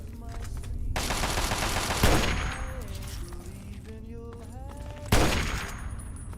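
A companion's gunfire in Fallout 3 rings out in several rapid bursts, with sharp cracks standing out near the start, middle and end over quieter game sound.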